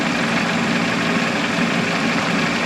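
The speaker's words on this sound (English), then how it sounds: "The engine is slowed down." A 2000 Toyota Camry engine idles steadily after a thermostat gasket repair, warmed up to temperature with a constant, even low hum and no talk over it.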